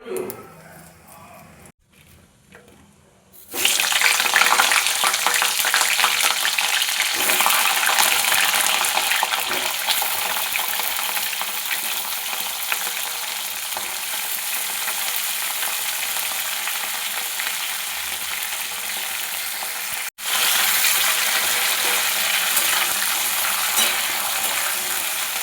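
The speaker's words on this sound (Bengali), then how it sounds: "আমি প্রথমে ফুলকপিগুলো ভেজে নেব" Cauliflower florets hit hot mustard oil seasoned with five-spice and bay leaves, bursting into a loud sudden sizzle after a few quiet seconds, then frying in a dense steady hiss with a brief break midway.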